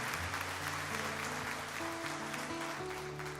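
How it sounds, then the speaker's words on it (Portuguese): Congregation applauding at a Sunday morning church service, steady dense clapping filling the room throughout, with sustained organ or keyboard chords beneath it. "Vamos aplaudir o Senhor, queridos"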